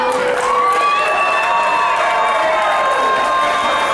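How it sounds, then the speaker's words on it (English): A packed theater crowd roars and cheers at a live wrestling show, a loud, continuous wall of voices with whoops and high shouts riding on top, sustained without a break. "Listen to that crowd. They love it."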